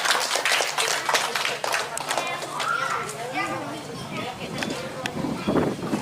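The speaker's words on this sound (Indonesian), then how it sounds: "Tepuk tangan dulu buat Mbak Jitan." Audience clapping breaks out at a community waste-bank anniversary gathering, scattered and uneven handclaps mixed with children's voices and constant nearby talk.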